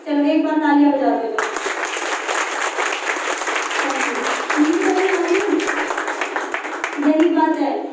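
A crowd bursts into applause, a thick, sustained clapping that lasts several seconds, with a voice speaking before it starts and again as it winds down.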